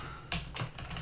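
A few soft keystrokes on a computer keyboard, two or three brief taps close by and quiet, with no voices over them.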